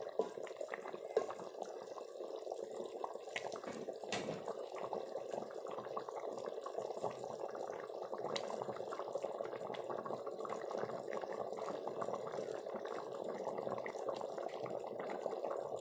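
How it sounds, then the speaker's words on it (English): Chicken curry boils in a pot, a quiet steady bubbling and simmering texture with occasional soft pops, close and continuous with no talk. "Just mix it and boil it for 5 minutes"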